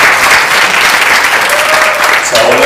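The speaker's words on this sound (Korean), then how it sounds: "오늘 그 나와주신 두 분 위해서 박수 한번 다시 크게 주시면 감사합니다." Audience applause for a film director and an actress at a post-screening talk at a film festival, loud sustained clapping from a seated crowd filling the whole stretch, with a brief tone near the end.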